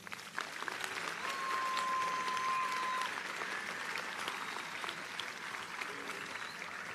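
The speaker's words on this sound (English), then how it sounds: "Please join me in giving them a round of applause." Audience applause at a high school graduation ceremony, steady clapping from a large crowd that swells slightly early on and then holds at a moderate, distant-sounding level, with a brief whistle near the start.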